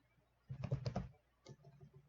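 Typing on a computer keyboard, a faint, close cluster of rapid key clicks followed by a softer single tap, over near silence.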